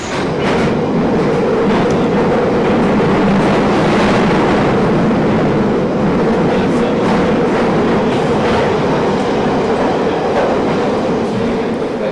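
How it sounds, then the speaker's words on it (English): A train rumbles steadily along the rails with continuous clattering and rolling noise, loud and close, as if heard from inside a carriage, approaching London Victoria station. "we are now approaching London Victoria, where this train terminates."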